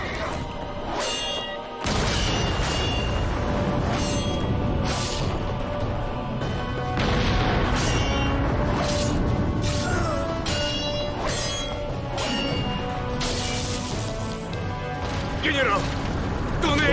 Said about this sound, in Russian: Туннели рушатся!